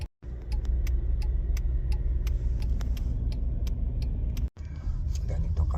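Busy Friday night road traffic rolls past in a continuous low rumble of engines, with a rhythmic ticking on top and a brief dropout partway through.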